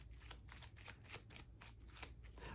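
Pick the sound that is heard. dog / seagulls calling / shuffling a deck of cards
shuffling a deck of cards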